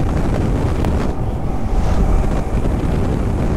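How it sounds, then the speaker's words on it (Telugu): Steady, loud wind rush buffets the microphone throughout, a broad roaring blast like air streaming past a rider on a Yamaha R15 motorcycle. "ఇప్పుడు హాయిగా గాలి తగులుతుంది."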